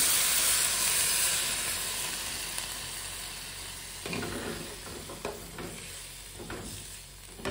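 A mug of water hits a hot pan and sets off a loud, steady hissing sizzle that slowly fades, broken later by a few sharper spits and bubbling pops.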